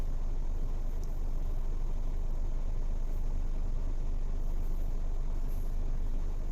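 Dense traffic rumbles steadily with car and truck engines idling and moving close by on a congested street in the Philippines, a constant low roar with no clear breaks.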